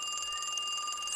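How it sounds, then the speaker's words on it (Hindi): A phone rings in a horror shop video game, a steady electronic trill held alone at moderate volume for a brief moment. "फोन आ रहा है"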